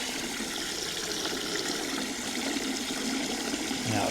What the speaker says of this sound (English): I'll just put a bit more water in it and we'll have a look at it again